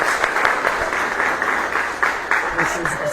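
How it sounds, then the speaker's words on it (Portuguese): A church congregation claps together during a worship service, a steady wash of applause with some sharper individual claps standing out near the end. "Então um aplauso ao Espírito Santo."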